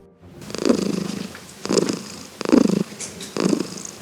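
Cats in an unheated animal shelter in Odesa purr close up, four slow, rhythmic rumbling cycles rising and falling with each breath.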